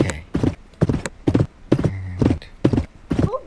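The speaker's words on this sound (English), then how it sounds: "Where's the horse at? Come on, need your horse. There you are." Horse hooves clip-clopping in the Western video game Westbound, a steady run of distinct near hoofbeats in a regular rhythm, with a brief voice calling out alongside.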